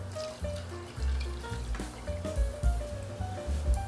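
Water pours and trickles steadily into a pot of split pea soup, close up, with low gurgling and a few small clinks throughout.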